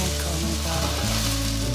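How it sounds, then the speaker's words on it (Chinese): Taro pieces pan-frying in oil give a steady, loud sizzle with continuous crackling throughout, and the pitch of the frying hiss shifts slightly partway through as the pieces are turned in the pan. "給它稍微煎一下，給它翻動一下"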